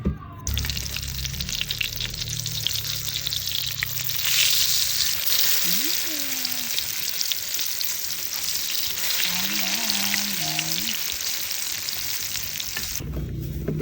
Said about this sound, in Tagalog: tapos magtotorta tayo ng talong